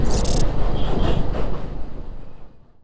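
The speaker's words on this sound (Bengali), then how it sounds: "মালগাড়ি আর বাইক একসাথে" A freight train rumbles across the Bally Bridge beside a motorcycle in heavy traffic. The roar is loud and continuous, with a brief bright squeal at the start, then it fades away toward the end.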